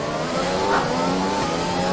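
A Formula 1 car in the F1 2021 video game at Baku brakes into a turn, its engine droning loud and steady with gear changes, alone with no talk.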